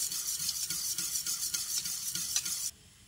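Milk and yogurt mixed in equal amounts being stirred in a bowl for a baked cheesy veg egg pasta, a steady close scraping swish with soft rhythmic strokes that stops abruptly near the end.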